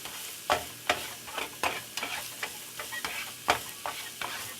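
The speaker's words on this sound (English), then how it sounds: "I'm going to give this a stir" A spoon stirs lasagna-stuffed zucchini in a hot pan, giving about a dozen close scraping clacks at an uneven rhythm over a soft continuous sizzle.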